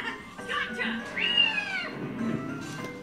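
Cats meow in the Naruto Storm video game, a few distinct rising and falling meows close up, with a player talking over and between them.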